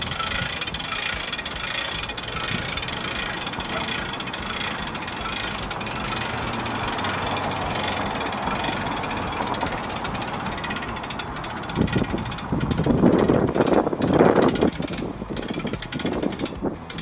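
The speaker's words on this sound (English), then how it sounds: "There's a winch here to do that. Simply start winching." A hand winch is cranked to raise the mast of a Beacon LED light tower, giving continuous close mechanical ratcheting and grinding that grows heavier and more uneven toward the end.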